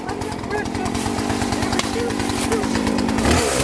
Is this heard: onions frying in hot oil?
no